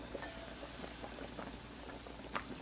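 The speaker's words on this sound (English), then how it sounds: "there you can see the tongue is boiling in there" Veal tongue boils at a medium-high rate in a lidded pot, a faint steady bubbling and soft popping patter, close and continuous with no voices.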